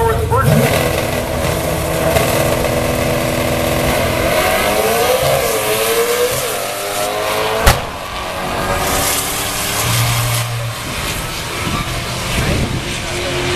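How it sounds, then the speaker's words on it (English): Drag race cars, a big block Chevy and a four-eyed Mustang, roar through a pass at Drag Week, engines loud and rising in pitch, with a sharp crack midway and a commentator talking over the noise. "He's running against Steve Winningham, who's got the big block Chevy and the four-eyed Mustang"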